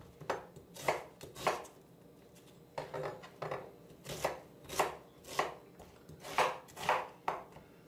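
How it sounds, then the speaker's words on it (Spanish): An onion is chopped with a knife on a board into large cubes, close up: quick rhythmic bursts of crisp strokes in short clusters with brief pauses between, and no talking. "Vamos a cortar la cebolla."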